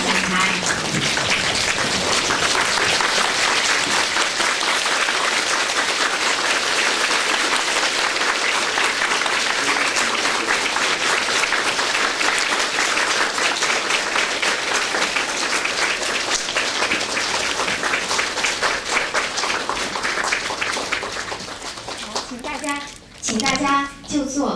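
A large audience breaks into dense, sustained applause to welcome a Khenpo to the stage, loud and unbroken for over twenty seconds before thinning out, with voices emerging as it fades.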